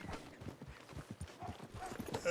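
A horse's hooves clip-clop at a steady walking rhythm in a Red Dead role-play video game, the thuds fairly close and moderately loud, with a murmur of voices running underneath.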